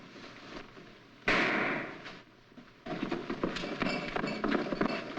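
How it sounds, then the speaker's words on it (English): A single sharp gunshot in a 1946 film soundtrack, a sudden loud crack that decays quickly, followed by busy rustling and movement noise. "What was that shot?"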